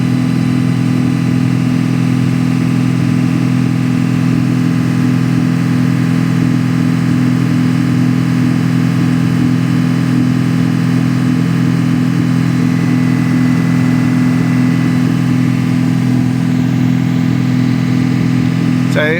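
Audi A6 engine held at steady high revs during a DPF cleaning, a loud continuous drone with no let-up that rises slightly near the end.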